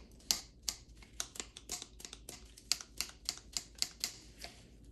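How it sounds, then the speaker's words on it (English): The joint of a stiff pair of pliers being loosened gives a series of faint, sharp clicks, irregularly spaced and close, as the handles swing fully open and closed again and again. "You can hear it clicking on both sides."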